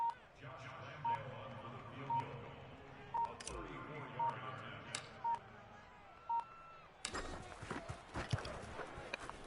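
A rapid run of touch-tone telephone dialing beeps, evenly spaced, cuts into a football game broadcast, over faint crowd noise and commentary, ending in a burst of louder background noise.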